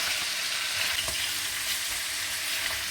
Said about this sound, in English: As you can see, the meat is browning.